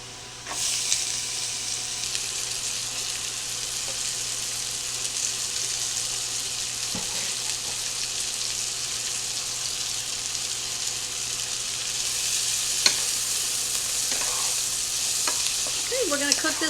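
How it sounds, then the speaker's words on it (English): Celery and onions sauté in a pan alongside carrots, a steady close sizzle with an occasional clink or stir, continuous throughout without talk. "we're going to go ahead now and add our celery and onions"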